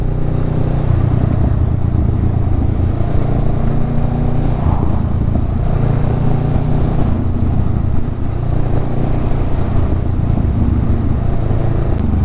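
A Honda Rebel 500 motorcycle rides along a road, its steady engine drone loud and close throughout with shifting tone as it cruises.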